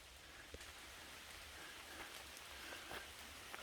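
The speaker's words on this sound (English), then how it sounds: "It's starting to rain a little bit" Light rain falling on a hiking trail of the Appalachian Trail, a soft, steady patter with scattered distinct drops close by, quiet and continuous without talk.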